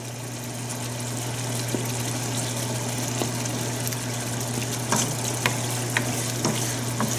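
Tomatoes simmer and thicken in a pan of mustard fish curry, giving a steady sizzle and bubbling with occasional soft pops and spatters over a constant low hum.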